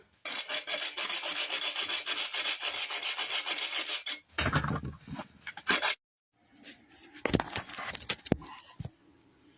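Coarse 24-grit abrasive sands rusty metal in loud, close, harsh rasping strokes, first continuous and then broken into short scrapes after a pause, with a few knocks of handling.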